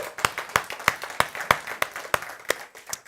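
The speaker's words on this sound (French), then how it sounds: "Est-ce qu'on peut les applaudir pour les remercier?" A small church community audience claps in a sparse, fairly even rhythm, about ten distinct hand claps in a few seconds, close and moderately loud with no talk.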